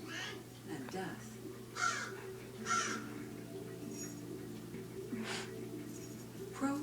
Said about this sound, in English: Crows have different warning calls.